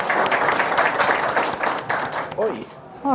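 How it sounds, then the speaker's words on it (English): An audience at a business talk on client rosters claps in a loud, dense burst that gradually thins out, and a voice begins speaking near the end. "let's give them a quick round of applause."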